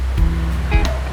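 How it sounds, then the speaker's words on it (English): Rushing river water flowing past a medieval manor in Portugal, a steady broadband roar that fills the whole clip close to the microphone, with a few brief knocks on top. "Sorry about the water noise,"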